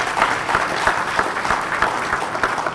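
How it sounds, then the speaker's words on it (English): Audience applause at an MLK reflection event in a park: a short, steady burst of clapping from a gathered crowd, with no speech over it. "we give them a round of applause."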